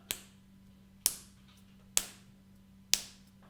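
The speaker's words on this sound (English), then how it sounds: "I'm going to clap and you're going to copy, but I'm only going to clap with my 2 fingers on my one hand" Four sharp, light claps made with two fingers against one hand, evenly spaced about a second apart to keep a steady beat, close and quiet against a faint background hum.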